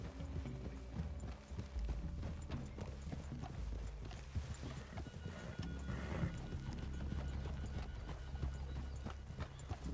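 Horses' hooves clip-clop steadily at a walk through a forest clearing in Red Dead Redemption 2, close and continuous, with an occasional whinny and faint ambient rustle.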